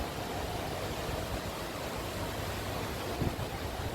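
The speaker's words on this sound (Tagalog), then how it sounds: "May patubig, may sound ng water." Water steadily pours from a water feature near a ramen spot, a constant broadband rushing hiss like a small waterfall, faint and unbroken throughout with no voices.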